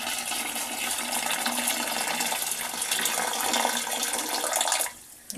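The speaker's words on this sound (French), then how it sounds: "quand il y a pratiquement plus d'eau, vite, je verse mon vinaigre chaud dedans" Hot vinegar pours into a nearly empty toilet bowl in a steady, splashing gush of liquid that runs loud and close for about five seconds, then stops abruptly. No one speaks.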